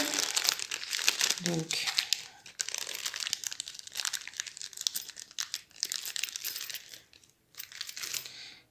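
A stuffed plastic bag being wrestled open, loud close crinkling and rustling in repeated bursts with a brief pause near the end, while a person talks intermittently over it.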